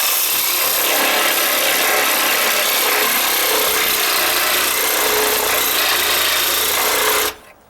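Loud, continuous rasp of a saw with a 12-inch blade cutting through rotten deck wood, steady and close for several seconds before stopping abruptly at the end.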